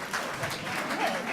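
An audience claps steadily for over a second, a dense patter of many hands at moderate volume with no voices on top.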